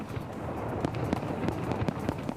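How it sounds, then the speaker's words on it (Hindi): New Year fireworks burst over the Brandenburg Gate in Berlin as a dense, continuous crackle of distant pops and bangs over a loud crowd roar. "बर्लिन के मशहूर ब्रांडेनबर्ग गेट पर शानदार आतिशबाजी का नजारा देखने को मिला।"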